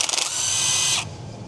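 A power tool spins out a bolt beneath a Tesla Model S in a loud, close, steady whir of about a second, then cuts off.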